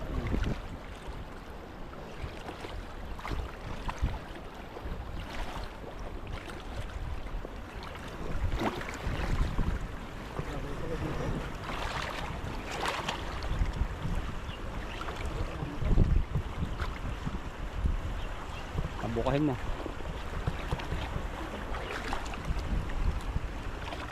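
Roaring river current with a steady, broadband rush of water that runs throughout, loud and close, with no voices.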